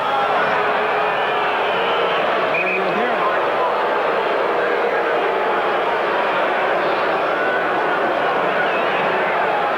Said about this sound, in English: Watch the crowd boo now as they run the football